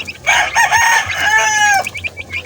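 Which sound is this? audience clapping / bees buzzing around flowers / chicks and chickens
chicks and chickens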